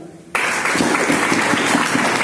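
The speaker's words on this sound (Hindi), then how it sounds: "सर, के लिए जोरदार ताली" Audience applause at a business seminar hall bursts in suddenly and continues steadily, loud and dense with individual claps audible throughout.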